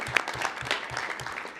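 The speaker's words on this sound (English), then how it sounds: "let's give them a round of applause." An audience at a board meeting gives a brief round of applause, a dense patter of clapping close by with no voices over it.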